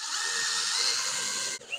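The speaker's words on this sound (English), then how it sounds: "Make us a pilot hole." A power drill boring a pilot hole in fiberglass bodywork on a 1969 Camaro, a steady high whine held close and loud for over a second before cutting off abruptly.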